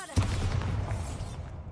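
A Bombarda spell explosion in Hogwarts Legacy, one sharp heavy boom followed by a deep rumbling decay over a second and a half, close and full.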